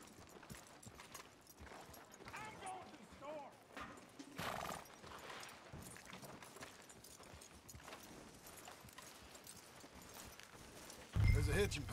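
A horse's hooves clip-clop in Red Dead Redemption 2, a soft rhythmic patter under ongoing talk, with a brief whinny and a louder thump near the end.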